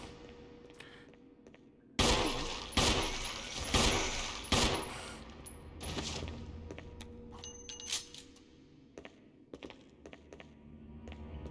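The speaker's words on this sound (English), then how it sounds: "I'm just gonna shoot wildly into the" Gunfire in the Resident Evil HD video game, a burst of loud shots fired wildly in quick succession, several sharp reports clustered early, then scattered fainter impacts and clinks trailing off.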